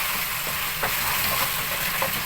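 Okra with meat stir-fried in a hot pan gives a steady, close sizzle, with a few sharper scraping bursts as the food is tossed and stirred.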